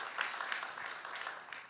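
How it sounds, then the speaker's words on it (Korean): A church congregation applauds God during a worship service, a steady wash of clapping from many hands that holds at an even, moderate level and never builds or stops. "Why don't we give God a round of applause for giving us this grace?"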